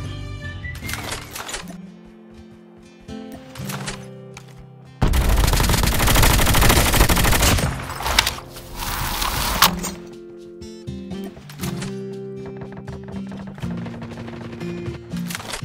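Rapid bursts of SMG fire in the mobile shooter Call of Duty Mobile, several sharp rattling volleys with a dense, loud stretch in the middle and game sounds between.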